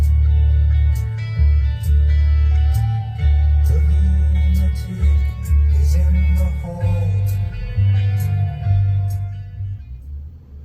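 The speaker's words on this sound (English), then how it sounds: "This truck actually does have a good sounding radio." Music plays loud and close from the stock radio inside a 2023 Nissan Frontier King Cab S pickup, with a heavy bass beat pulsing throughout and bright percussion above it.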